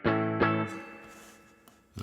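Guitar through an AmpliTube JH120 amp simulation with the pedal switched off: two struck chords ring and decay softly, followed by a faint pick noise and a fresh strum at the end.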